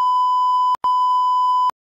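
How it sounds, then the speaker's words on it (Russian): Two loud, steady censor beeps, each under a second with a brief gap between, cover swearing with nothing else audible. "Я это пикать потом буду."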